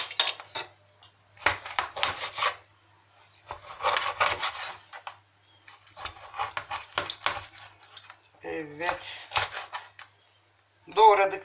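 Chicken for a turmeric-sauced boiled dish is chopped with a knife on a cutting board in irregular bursts of sharp knocks, with a person talking in between.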